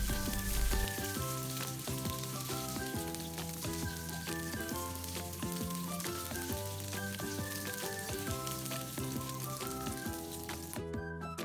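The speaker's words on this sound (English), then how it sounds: "So I'm going to just fry this till it's golden brown." Steady frying sizzle from food cooking in a pan until golden brown, continuous and close with no talking.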